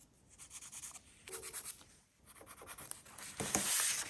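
Scissors or a trimmer cut a gel plate print down to envelope size, giving short scratchy snips and paper rubbing in bursts, close and quiet, ending in a brighter crisp rustle.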